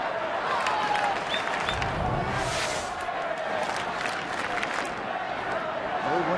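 A baseball stadium crowd at a Reds–Pirates game in Pittsburgh cheers and applauds in a sustained, roaring wash of noise, with broadcast commentary talking over it.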